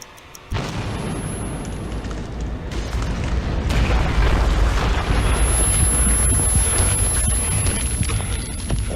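A massive explosion in the video game Metro 2033 erupts suddenly into a loud, sustained rumbling roar that swells and continues for several seconds, with no speech.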